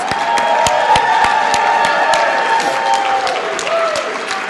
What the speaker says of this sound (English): How about a big round of applause for all of our Bright Stars?